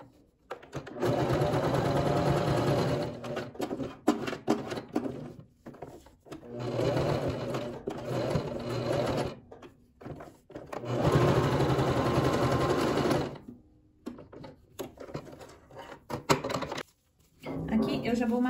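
Sewing machine topstitching around a small patchwork gift, running in several long, steady bursts of rapid stitching separated by short pauses.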